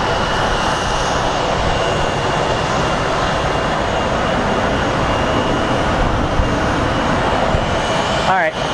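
A British Airways airliner turning on the ground at Phoenix Sky Harbor airport, its engines giving a loud, steady roar throughout with a brief whine near the end.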